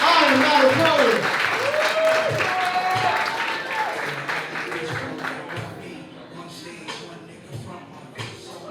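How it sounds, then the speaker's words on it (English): A crowd at an open mic poetry night claps and cheers for a performer, loud at first and gradually dying down, while a host speaks over the applause. "I need you all to clap your hands."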